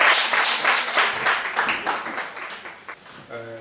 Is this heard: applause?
yes